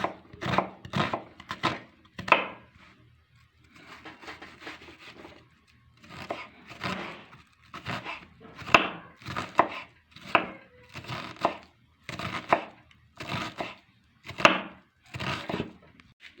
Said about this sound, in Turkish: Önce kuru soğanımızı ufak ufak doğrayacağız.